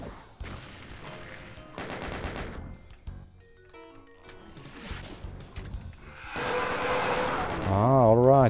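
Gunfire from enemies in the video game Doom 2 crackles in bursts under a player's voice, with a louder, denser barrage building near the end.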